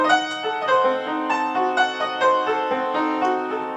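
Diminished chord built from four equally spaced notes dividing the octave, played as a sequence of sustained harmonic tones with repeated note onsets roughly every half second, clear and alone with no talking.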